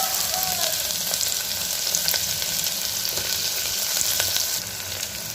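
Onions fry in hot oil for mutton fry, a loud, continuous crackling sizzle close by with faint spatula scrapes now and then.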